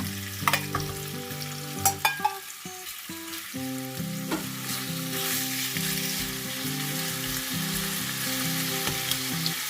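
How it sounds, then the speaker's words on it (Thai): A steady, loud sizzle fills the clip as chicken is stir-fried in a hot wok after fried garlic, with a few scraping clinks of a spatula near the start. "พอกระเทียมสุกหอมได้ที่ก็ใส่เนื้อไก่ลงไปผัดได้เลยค่ะ"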